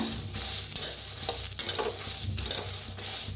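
Peanuts and peas dry roasting in a kadhai without oil, stirred continuously with soft scraping and rattling strokes, close and steady, with no talking.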